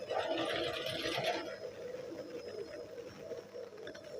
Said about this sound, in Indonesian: kita jahit di sini dulu